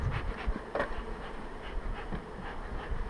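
Honeybees buzz around an opened finishing hive during a queen-rearing visit while smoke is puffed under the screened bottom, a steady, close, low hum with a few brief louder swells and no talk.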